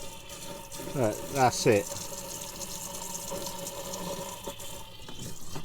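A tap runs slowly at low water pressure, a thin steady hiss of water trickling in to fill, while someone talks briefly over it.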